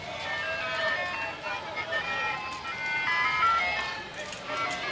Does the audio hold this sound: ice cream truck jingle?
yes